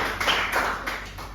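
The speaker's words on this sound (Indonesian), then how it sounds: "kasih tepuk tangan buat teman-teman" Students in a classroom lesson clap for their classmates, a short burst of moderate applause from a small group lasting just over a second, with no talk over it.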